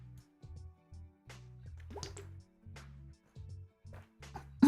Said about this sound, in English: let me drink water.